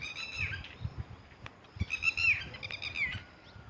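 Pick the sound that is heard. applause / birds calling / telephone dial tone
birds calling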